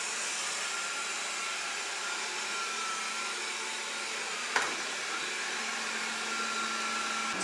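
A Proscenic 820S robot vacuum cleaner runs with a steady, even whirring hum close by, broken only by a single brief knock partway through, with no talk.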